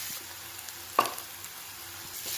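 Vegetable pieces for a curry fry steadily in a pan with a soft continuous sizzle, and one brief stir or clatter interrupts it about a second in.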